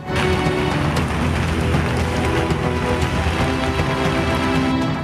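Heavy rain pours down in Ramanagara, a loud, steady hiss of drops drumming on surfaces with no break and no voices.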